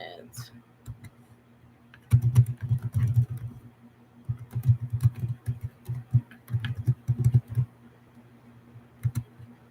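Bursts of rapid, papery riffling as cards are shuffled, several rounds separated by short pauses, close up, over a low steady hum.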